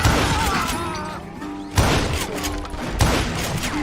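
Gunfire in a Western video game: three sharp, loud shots spaced over a few seconds, each with a booming tail, over a busy game soundscape.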